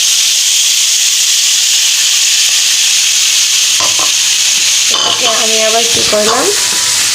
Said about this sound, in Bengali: আমি এটাকে একটু বাগার দিয়েছি তেল আর রসুন দিয়ে।